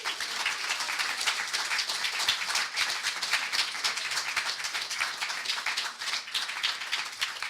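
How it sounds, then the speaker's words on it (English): An audience keeps clapping after a creative pitch talk, steady dense applause with crisp individual claps running evenly throughout, fairly close and with no voices. "Let's keep clapping."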